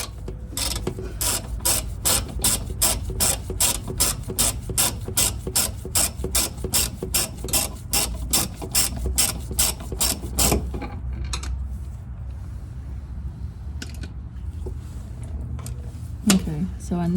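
A ratchet wrench clicks rapidly and steadily while undoing 14 mm and 10 mm bolts on a vehicle, a long run of sharp, close pawl clicks that stops partway, followed by quieter handling noises.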